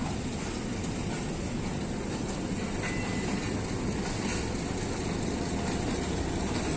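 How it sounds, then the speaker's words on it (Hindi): Kohat Express passenger train of Pakistan Railways rolling past, a steady loud broadband roar with faint wheel-on-rail clatter, no talking over it. "जो कोहाट एक्सप्रेस का रैक जा रहा है।"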